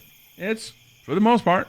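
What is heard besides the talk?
crickets chirping outside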